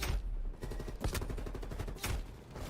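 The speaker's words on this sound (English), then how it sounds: "A couple of nades connect" Dense gunfire and blasts from a Call of Duty League 2021 match, with a couple of grenade explosions standing out as broad bursts amid continuous loud shooting.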